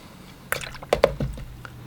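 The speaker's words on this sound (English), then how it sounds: "We're just splashing around. A couple splashes." A paintbrush flicks wet paint onto a surface during a beginner painting session, giving a few soft, quick wet splats and squishes in close succession, fairly quiet and close.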